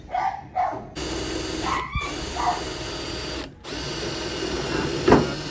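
Power drill whirring in several long bursts while driving screws into a new house roof, the motor stopping and starting, with short dog barks and a few thuds in between.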